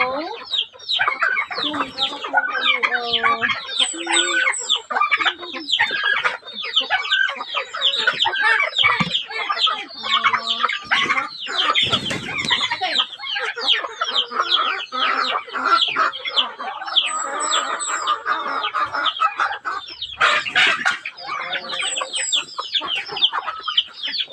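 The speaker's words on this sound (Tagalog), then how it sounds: "So, may pabo, may manok." Chickens cluck busily and a rooster crows among farmyard fowl with turkeys nearby, a loud, continuous, close chorus with occasional people talking over it.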